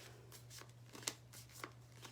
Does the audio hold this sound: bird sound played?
no